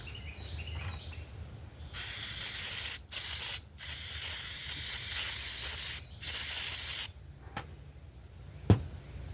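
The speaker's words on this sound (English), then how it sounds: "let me use what carb spray I got left in this can." Carburetor cleaner sprayed from an aerosol can while servicing a Ryobi backpack blower, heard as several loud hissing bursts of varying length with short gaps between them, followed by quieter clicks.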